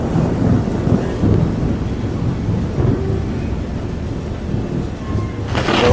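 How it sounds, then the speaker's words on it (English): A heavy tropical thunderstorm pours down on the Central Sulawesi south coast while passengers wait to leave a boat, a loud, dense roar of rain with rumbling thunder throughout, close and continuous. "This storm, this is incredible. It's raining so much."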